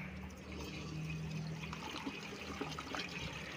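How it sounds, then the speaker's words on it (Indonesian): Liquid fertilizer for young shallot plants poured into a jerrycan, a steady close trickle and gurgle running the whole time with no talk. "Pupuk tadi kita tuangkan ke dalam jerigen."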